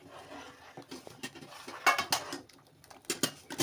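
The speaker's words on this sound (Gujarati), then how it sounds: "વઘારને સારી રીતે મિક્સ કરી અને એક ઉભરો આવવા દેવું" Tempering being stirred into dal dhokli inside a pressure cooker, a busy run of metal spoon knocks and scrapes against the cooker, close, irregular and fairly loud, without talk.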